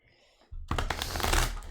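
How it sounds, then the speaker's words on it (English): Oversized Golden Wheel Tarot cards are shuffled by hand, a loud close riffling burst that starts suddenly after a quiet moment and continues for over a second. "I just have trouble shuffling these monster cards in the Golden Wheel Tarot."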